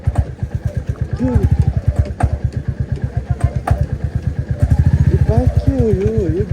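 A motorcycle engine chugs close by in quick, even pulses on a dusty downhill road on the way to Rukum, while people talk over it.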